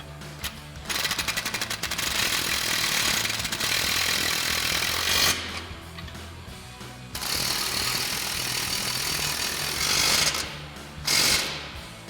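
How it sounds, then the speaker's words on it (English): Impact wrench with an 18 mm socket and extension tightening bumper bolts on a 2021-2023 Ford F-150 during a replacement front bumper install. The rattling hammering is loud and close, running almost continuously with brief pauses between bursts. "So we'll grab our 18 mil socket and extension on our impact again, as well as our 19 mil wrench, and tighten down these 2 bolts."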